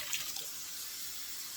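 Water runs from a kitchen sink tap while collard greens are washed, a soft steady hiss of flow with a few faint splashes near the start, fairly quiet and without speech.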